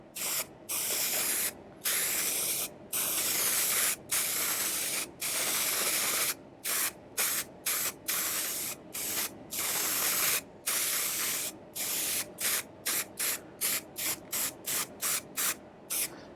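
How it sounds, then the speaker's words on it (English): Short hissing bursts from a spray gun lay a dry coat of adhesive on upholstery for a 27 ft Nauticus cruiser boat outdoors, about two dozen close sprays with brief pauses that quicken toward the end. "what I'm going to do now, and that is give it a dry spray"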